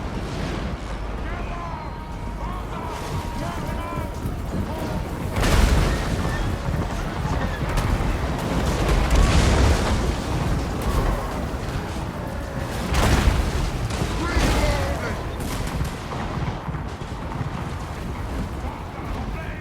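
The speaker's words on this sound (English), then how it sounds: "Now the cannons are starting to focus on the real targets." Heavy cannon blasts boom at intervals over a constant rumbling battle din in the video game Warhammer during a multiplayer battle, with a voice talking throughout.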